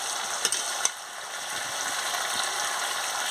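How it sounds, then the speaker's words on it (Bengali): Goat meat sautés in oil for a curry, a dense, even sizzle filling the clip, with two quick metallic clicks of a spoon early on, close and steady. "সুন্দর তেল বেরিয়ে যাচ্ছে, ভালো করে কষিয়ে নিচ্ছি।"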